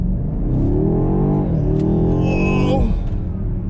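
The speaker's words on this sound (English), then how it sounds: "That was just a quick little 0 to 50 pull, but it felt like I was pulling a couple G's" A 2020 BMW X6M Competition accelerates hard from 0 to 50, its engine heard from inside with a loud rising pull, a quick shift, and a second climb before the throttle drops.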